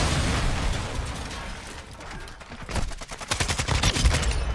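AK rifle gunfire in the video game Warzone 2.0, loud and close, building into rapid automatic bursts with mechanical clatter and no talking.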